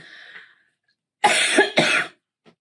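A woman coughs twice in quick succession, close and loud, after a faint murmur, then falls silent.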